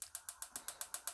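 Gas stove being lit under a frying pan, a rapid run of about nine crisp, evenly spaced igniter clicks, close and fairly quiet, with no talk.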